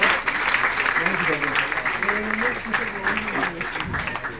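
An audience at a superhero-themed comedy show claps steadily while a voice talks over the applause.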